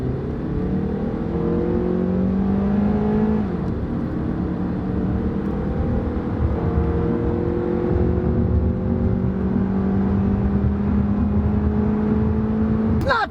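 A Honda car accelerates along the road with a steady engine drone that rises in pitch, dips at a gear change, then climbs again under constant road noise.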